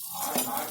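Chana dal and urad dal are sautéed in a pan, giving a brief, soft hiss with a light scrape of a spoon near the middle, close and quiet.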